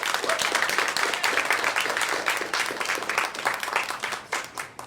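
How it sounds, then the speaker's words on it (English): A school audience gives another round of applause at a student news conference, lively dense clapping that holds strong and then thins into scattered claps at the end. "Can we give them one more round of applause?"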